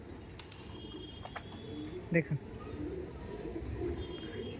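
Male Madrasi pigeons coo in a low, rumbling murmur through a busy backdrop, with one brief louder call standing out near the middle; someone speaks a word close by.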